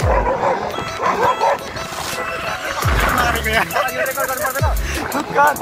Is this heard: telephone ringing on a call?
no